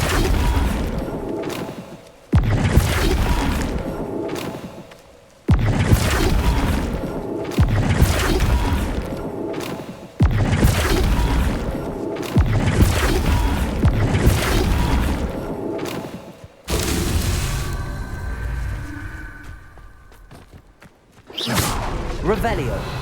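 Flipendo spell impacts in the Hogwarts Legacy video game land as a series of loud, heavy booms and thuds every few seconds, each a dense burst with a short tail, with a voice talking at times.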